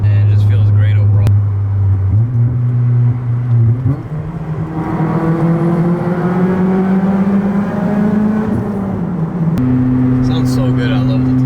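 An Acura TSX fitted with aftermarket headers and exhaust drives through a tunnel: a loud, close, steady engine drone rises in pitch as it accelerates, settles, then climbs again, with the tunnel echo adding a boomy reverberation.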